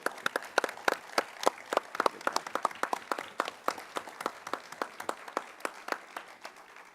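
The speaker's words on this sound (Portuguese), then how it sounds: "Então, uma salva de palmas." Applause during a municipal council session: a small group claps in a sparse, uneven rhythm of distinct hand slaps, fairly close and moderately loud, without voices over it.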